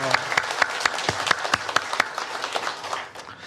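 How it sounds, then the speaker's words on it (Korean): A church congregation claps in a quick, steady rhythm of sharp hand claps that thins out toward the end. "하나님께 영광의 박수 올려드리겠습니다."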